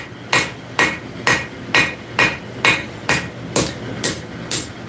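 A hammer planishes cooling steel during forging: ten evenly spaced, ringing metallic strikes about half a second apart, loud and close, each decaying quickly before the next.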